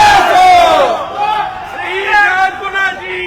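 A crowd at a Ganesh festival procession roars and cheers loudly, with rising and falling shouted voices blending into a dense, lively outburst close by.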